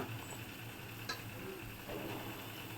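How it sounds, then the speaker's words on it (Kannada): Water for a mushroom biryani coming to a rolling boil in a pot: a faint, steady bubbling hiss with a few soft ticks and clicks, heard alone without voices. "ಚೆನ್ನಾಗಿ ಕುದೀತಿದೆ"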